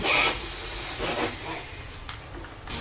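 An air compressor releases a steady, loud hiss that fills the scene, wavering slightly, with a sharp burst of air near the end, in a garage where a lift kit is being installed on a Ford Explorer.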